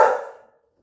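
A single sharp dog bark, close and loud, cutting off quickly and decaying into silence.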